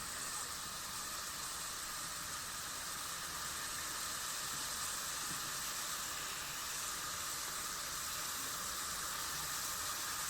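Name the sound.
chicken frying in a pan for bhuna masala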